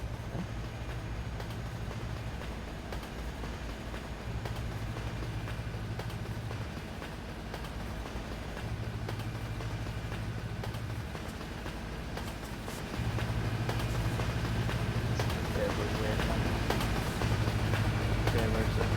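A train in a Euro Truck driving game rumbles past with rhythmic clacking and a low hum that grows louder toward the end, heard under faint background sound.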